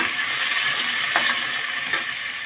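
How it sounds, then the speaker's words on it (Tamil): Mustard seeds, onions and curry leaves sauté in hot oil in a pan, a steady close sizzle with a couple of faint stirring scrapes and no talking. "கடுகு சேர்த்துக்கலாம் வெங்காயம் கறிவேப்பிலை சேர்த்து நல்லா வதக்கிப்போம்"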